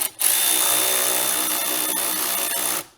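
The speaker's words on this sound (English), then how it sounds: "you can go ahead and tighten this last clamp down" A power tool runs continuously for nearly three seconds, loud and close, tightening the airbox coupler clamp during an aFe Super Stock intake install on a RAM TRX, starting and stopping abruptly with no talking.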